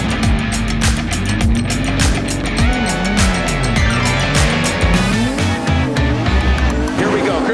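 Nissan Z drift car, VR-powered, at a Formula Drift event, with a loud engine revving and bouncing between high and low pitch, tire squeal and rapid gear-limiter stutter as the car transitions, with commentary over it.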